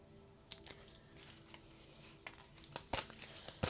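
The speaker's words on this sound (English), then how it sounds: "You can hear me shuffling." Tarot cards are shuffled in quiet surroundings, giving soft papery riffles and crinkly flicks in scattered bursts, close and faint, with louder snaps toward the end and no talking.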